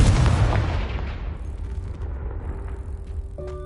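Confringo blasting spell from Hogwarts Legacy bursting in a loud explosive boom that decays over a couple of seconds into a low rumble, ending with a faint tonal chime.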